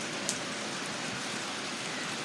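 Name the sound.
rain during a storm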